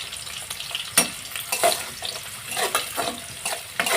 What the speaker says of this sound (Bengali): পেঁয়াজটাকে আমি বেশি ভাজবো না হালকা করে ভেজে নেব